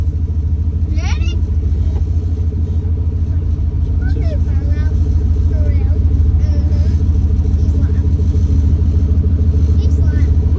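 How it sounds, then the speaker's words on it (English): LS-swapped Studebaker car doing a burnout, a loud steady V8 rumble with rising revs and tire noise throughout, while people talk over it. "You want to do a burnout or no?"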